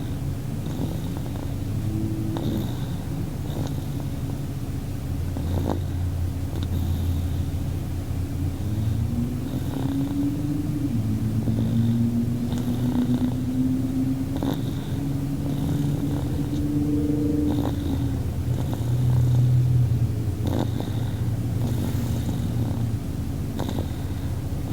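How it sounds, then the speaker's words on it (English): A baby girl snores softly while asleep in a car, with slow, rhythmic, purring breaths repeating over a steady low road rumble for about twenty-five seconds. "I hope you guys could hear her snoring"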